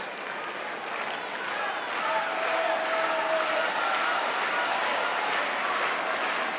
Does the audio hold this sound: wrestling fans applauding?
yes